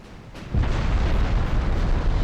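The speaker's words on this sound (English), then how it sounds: "She got a rear torpedo." A torpedo strikes a warship in the naval strategy game Dreadnought Improvement Project, a loud sudden boom that swells into a sustained, rumbling roar of explosion noise with no talk over it.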